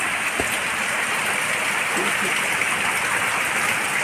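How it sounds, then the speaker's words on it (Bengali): Heavy rain falls outside in a dense, steady rushing hiss that holds loud and unbroken throughout, with a brief thud and a faint voice underneath. "এই দেখুন বন্ধুরা বাইরে কীরকম বৃষ্টি পড়ছে"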